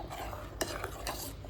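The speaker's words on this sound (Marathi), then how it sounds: "त्याला दूध फाटायला ठेवलंय, जरा ढवळते" Milk curdling with lemon juice for homemade paneer being stirred in a pot, soft scraping swirls with a couple of brief utensil clicks against the pan, fairly quiet.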